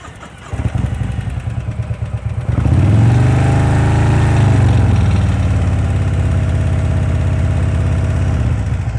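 A motorcycle engine runs at slow speed during low-speed riding practice, idling then rising to a steady, louder throttle hum that holds with slight pitch swells, close and continuous with no talking.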